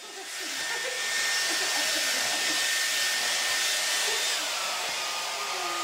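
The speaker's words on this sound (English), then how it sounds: "Blow dry." A hair dryer blows steadily on a taxidermy mouse's wet fur, a loud, close, constant whooshing hiss that swells in at the start and holds without a break.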